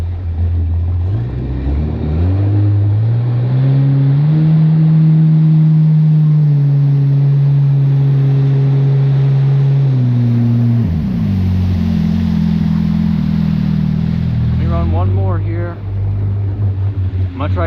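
Loud, steady whine of a JSB Intersceptasaurus Rex RC boat with Worx sponsons running a lap, pitch rising and falling through throttle changes and a turn near the end.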